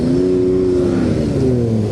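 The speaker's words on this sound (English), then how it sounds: "The number 92 car is absolutely revving it." A classic race car engine revs loudly and steadily up close at Silverstone, its pitch sliding and holding in a sustained roar.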